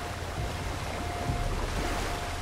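A horse wades across a shallow, fast-flowing river in Red Dead Redemption 2, a steady close rush of splashing water with soft low thuds of movement and no talking.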